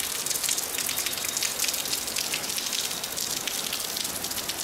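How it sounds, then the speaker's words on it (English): Waterfall on a bush trail at Blackheath after rain, a steady hissing wash of falling water, broad and continuous, with no voices over it. "it's good to come down here and look at this waterfall"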